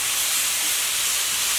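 Cabbage medley cooking down in a pot, giving a steady, loud, unbroken steam hiss throughout with no pauses or talk.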